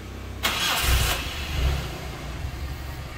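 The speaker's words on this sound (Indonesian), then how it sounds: "coba kita hidupkan untuk mesinnya" An engine cranks with a short burst, catches, and settles into a steady low idle, close by.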